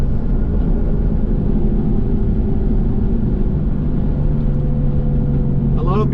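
A BMW F82 M4 tuned to Stage 2+ drives at night, heard from inside the cabin as a loud, steady low engine and intake drone with road rumble, and a pitch shift partway through.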